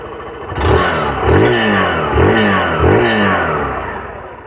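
A Hero Glamour 125 BS6 motorcycle engine started up close and revved several times, each rise and fall of the exhaust note clearly audible and loud with no talk.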